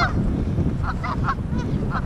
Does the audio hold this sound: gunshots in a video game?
no